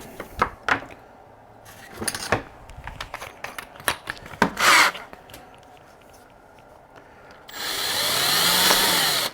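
Scattered taps, knocks and scrapes come from work on the hollow head of a 1/4-scale Wolverine sculpture, then a rotary tool chipping it out starts up near the end, whining steadily and close.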